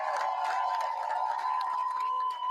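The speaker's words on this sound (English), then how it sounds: "Can we give Jason and Jane a big round of applause?" A campaign rally crowd in Peoria, Arizona cheers and applauds, with a sustained tonal cheer or horn riding over a steady roar of distant crowd noise.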